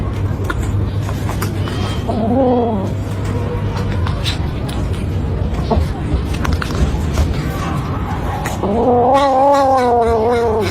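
A kitten caterwauls at its own reflection in a mirror, drawn-out wavering yowls rising near the end over a busy background with faint murmur.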